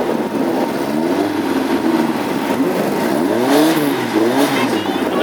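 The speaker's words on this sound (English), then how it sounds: "And this is 72 Gary Goodswin, just firing up the 2-litre Pinto." A 2-litre Pinto engine in a Mark II Escort hot rod revs at a pit walk, the note rising and falling in repeated blips over a steady idle, with people talking nearby.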